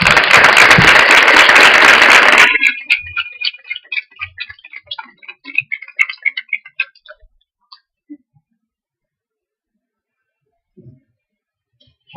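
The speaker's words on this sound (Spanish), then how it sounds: "Un aplauso para todos." An audience at a panel discussion on school trajectories breaks into a loud burst of clapping for the panelists that stops abruptly, followed by a few sparse, trailing claps and near silence.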